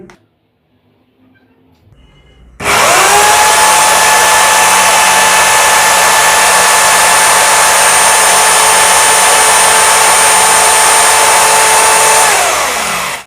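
An electric drill machine spins at full speed for about ten seconds, a loud, close, steady high-pitched whine that starts abruptly after near silence and winds down at the end.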